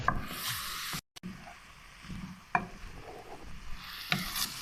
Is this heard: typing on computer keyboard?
no